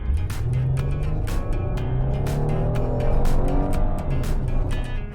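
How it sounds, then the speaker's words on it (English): Dashcam car braking hard and sounding its horn to avoid a car turning across its lane at evening, a steady road and engine roar with repeated sharp bursts, no talk. "slammed on the brakes and hit the horn, barely avoiding T-boning the turning car"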